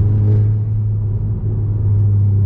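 A deep, steady engine drone booms inside an Audi TT cabin on deceleration, a low resonant hum that holds throughout with no talking.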